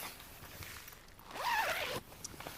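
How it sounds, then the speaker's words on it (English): A zipper pulls along the window of a Coleman Lakeside 6 Deluxe tent, one quick rising rasp of the fabric zip up close, surrounded by faint rustling and shuffling. "The windows themselves have a clever little system on them. You zip them up"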